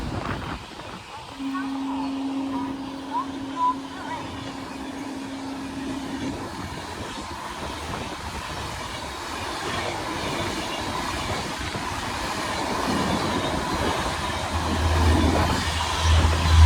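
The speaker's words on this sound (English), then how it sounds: "A fast train will be passed from platform number 2." A fast train thunders through a railway station platform at Bhilad with steady loud rumble and clickety-clack of wheels throughout, a long tone near the start and an announcement-like voice briefly in the mix, swelling louder toward the end.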